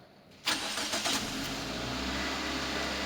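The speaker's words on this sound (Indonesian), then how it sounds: "Pada saat kunci kontak on, cek engine tetap menyala, mesin kita hidupkan." A car engine cranks and catches during a sensor and actuator check in a school workshop, then settles into a steady, fairly loud idle that runs to the end.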